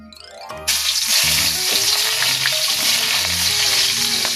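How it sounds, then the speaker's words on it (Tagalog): Hot, smoking oil in a pan for chicken adobo bursts into a loud, steady, close sizzle after a brief quieter moment, holding as a dense continuous hiss with small crackles. "Tapos initin yung kawali at lagyan ng oil."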